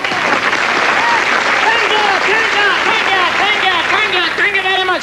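Comedy show studio audience applauding with whoops and overlapping chatter, a loud continuous clapping bed with prominent voices calling out on top.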